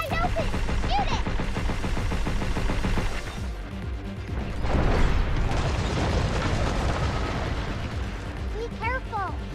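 Gunfire and booming blasts from a sci-fi action video game, dense and continuous throughout with swelling explosions midway, while a player talks over the noise.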